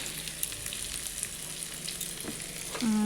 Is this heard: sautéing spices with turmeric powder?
yes